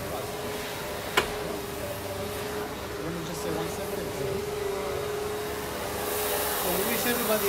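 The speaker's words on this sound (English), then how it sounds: "sorry for the noise from the vacuum cleaning the shul" A vacuum cleaner drones steadily throughout, cleaning a synagogue, fairly loud and close, with a brief sharp knock early on and a slight rise in roar near the end.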